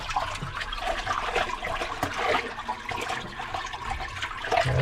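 Water drains steadily down a freshly unclogged main sewer line after clearing with a small snake, a continuous close gurgling trickle and rush that carries on without pause.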